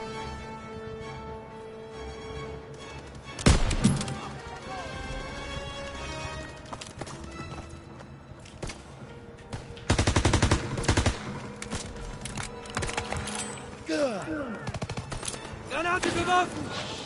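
Gunfire in the World War II shooter Call of Duty WW2, sharp close shots and rapid bursts ringing out amid battlefield noise, with heavy volleys around the middle and end.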